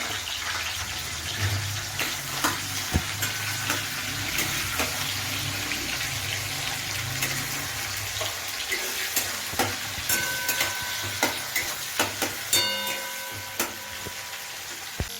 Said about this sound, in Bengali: এবার দিয়ে দেবো পেঁয়াজ কুচি, একটু লাল লাল করে ভেজে নেবো